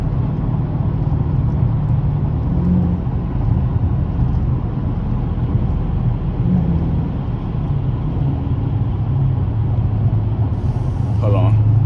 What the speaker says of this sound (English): I'm gonna let y'all just listen to the engine right quick